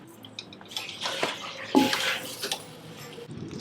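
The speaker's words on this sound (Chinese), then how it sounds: "就加水，水要盖住那只鸭。" Water poured into a pot holding a braised duck with cinnamon, cloves, star anise and dark soy sauce, splashing and gurgling at close range, with clinks of the pot and a few pauses.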